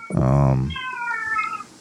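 A house cat in a living room lets out one loud, drawn-out meow up close, followed by a thinner, higher cry as someone talks quietly in the background.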